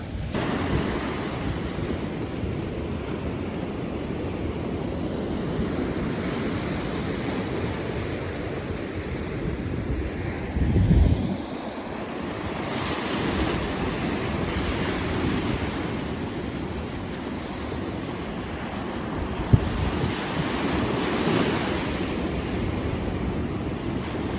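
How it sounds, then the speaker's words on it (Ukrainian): Sea waves wash steadily against the Odesa seaside while wind rumbles across the microphone, a continuous broad roar of surf with gusty swells and no voices. "Море чисте, таке воно спокійне, лагідне. І головне, що вітер."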